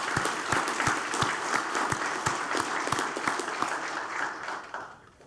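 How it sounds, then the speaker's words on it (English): Steady applause from an audience at the keel laying ceremony for the NOAA ship Discoverer, with dense clapping and a few sharp individual claps, tapering off toward the end. "Let's give them another round of applause."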